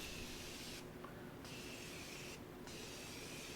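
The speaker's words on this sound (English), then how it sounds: "I'm just gonna go in and set my face with some Morphe setting spray" Two short hissing sprays of makeup setting spray misted onto a face, about a second apart, close by over a quiet background.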